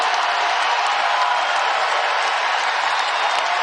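Basketball arena crowd roaring and cheering at an Indiana vs Miami NCAA Tournament women's game, a dense, steady wall of noise with no break from start to finish.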